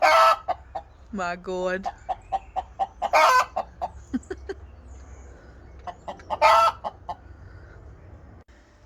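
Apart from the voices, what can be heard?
adopted battery hens clucking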